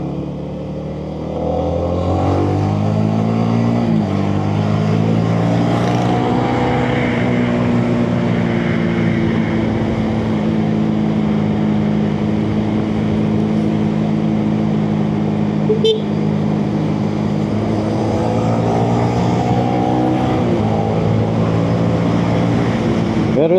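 Honda Winner X motorcycle engine held at very light throttle, a steady loud drone with layered harmonics that dips at the start and swells again near the end, with no talk over it.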